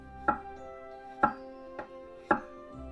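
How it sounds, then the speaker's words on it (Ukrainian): A knife cuts peeled potatoes into rings about 1 cm thick, with four distinct chopping strikes against a board, each with a short ringing decay, evenly spaced and close. "тепер потрібно її порізати на кільця"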